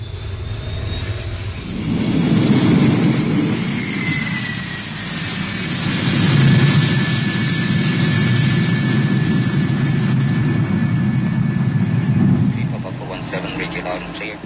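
An A-10A attack aircraft flies with a loud, sustained jet engine roar and whine that swells and holds steady, with no talk over it.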